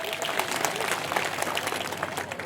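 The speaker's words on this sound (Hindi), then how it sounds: "हमारी बेटियां साधना भारती के लिए जोरदार तालियों से स्वागत कर रहे हैं" Audience applause at an OBC Mahasabha event in Katni welcoming Sadhna Bharti, a steady, dense wash of clapping from a large outdoor crowd that holds moderately loud throughout.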